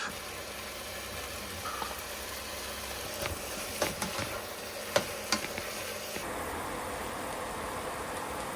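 Vegetables sizzle and fry in a pan inside an unconverted delivery van, a steady crackling hiss with occasional stirring clicks and scrapes, close and moderately quiet.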